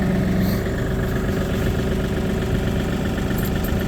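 A Kioti NS 4710 tractor engine running steadily near 1500 RPM, a constant low rumbling drone with no breaks, close and alone.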